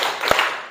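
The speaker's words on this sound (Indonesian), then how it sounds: "pagi tepuk tangan 1 kali, kalau siang 2 kali" A single sharp hand clap in a classroom game, close and brief, standing alone against quiet room tone.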